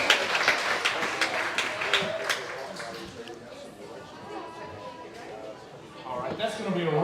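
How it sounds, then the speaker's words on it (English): A gym crowd at a Buckeye Lady Panther girls' basketball coach's show claps for the coach, a spatter of hand claps that thins out, then picks up again near the end, with voices chattering underneath. "I want everybody to give a big round of applause for Coach Torrey of Buckeye Lady Panther."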